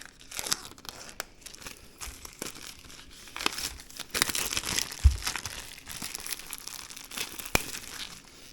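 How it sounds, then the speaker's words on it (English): Plastic wrap being punctured and peeled off a new Waterdrop under-sink water filtration system, a run of close crinkling and crunching with a few sharp tearing bursts, no talking. "I'll unwrap it. Just puncture it. Take off the plastic."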